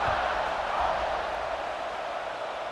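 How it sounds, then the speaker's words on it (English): Stadium crowd in EA Sports College Football 26 giving off a steady, distant buzzing roar of cheering after a score, a continuous wash of massed voices with no distinct speech. "this crowd is buzzing after that last score"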